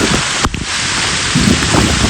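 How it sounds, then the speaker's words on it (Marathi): Heavy rain pours near a waterfall in Murbad taluka, Thane, a dense, loud, steady wash of falling water with a brief gusty bump and scattered patter close by. "जोरदार पाऊस आहे, फुल पाऊस पडतो बघा"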